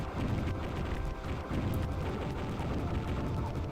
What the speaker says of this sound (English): So the heavy missile launcher seems to be serving us well, if we can aim it correctly.